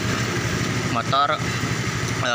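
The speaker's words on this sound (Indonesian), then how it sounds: "motor masih dalam keadaan hidup" A Honda Vario Techno 125 scooter engine idles with a steady low mechanical hum, running on after its fuses are pulled. Someone talks over it throughout.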